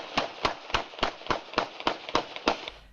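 Gunshots fired at an apartment, picked up by a home security camera: about nine sharp, evenly spaced bangs in quick succession, loud and cracking, with no talk.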